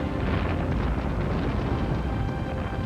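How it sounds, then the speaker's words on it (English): A dense, roaring rumble fills the air: the French flagship Orient exploding, a sustained low blast-like boom with no clear start or end, loud and continuous. "The explosion is heard 30 miles away."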